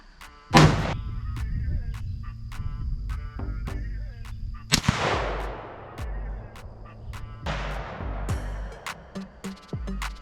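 A Ruger American .308 rifle fires handloaded rounds at a target 100 yards away, with two loud, sharp gunshots a few seconds apart, each followed by a long, rolling echo and tail.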